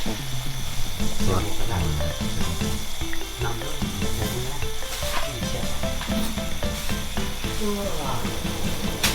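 Curry paste stir-frying in a pan in a village kitchen gives a loud, steady sizzle and hiss with scraping stirs throughout, close up, while people talk over it.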